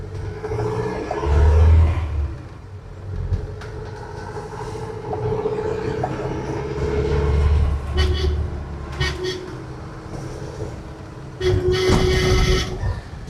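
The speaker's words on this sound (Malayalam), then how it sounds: "നമ്മുടെ ബ്രേക്ക് ഒന്ന് ടെസ്റ്റ് ചെയ്ത് നോക്കട്ടെ കേട്ടോ" A Mahindra Thar moving along a narrow road, heard from inside as a low engine rumble and road noise that swells and eases, with bursts of louder noise and a voice talking over it at times.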